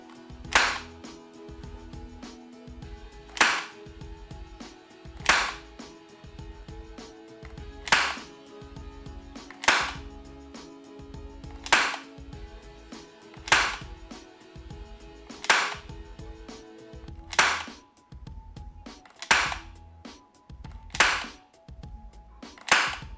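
A Gunter P30 CO2 air pistol, a copy of the HK P30, fires about a dozen sharp cracks at a steady pace of roughly one every two seconds, crisp and close.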